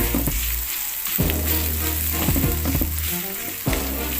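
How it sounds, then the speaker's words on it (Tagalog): A pan sizzles loudly and steadily as aromatics are sautéed for a spicy tilapia dish. Scraping stirs and clinks of a utensil on the pan break in repeatedly, with a low hum beneath and no voices. "Ayan, gisa lang natin guys."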